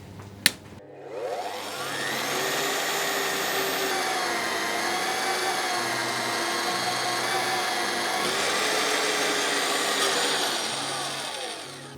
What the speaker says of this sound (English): Mag drill, 28mm hole, 6mm steel.